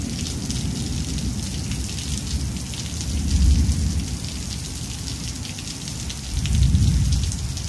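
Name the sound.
rain with rolling thunder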